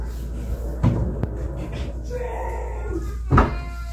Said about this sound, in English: I'll show you how it slides and works.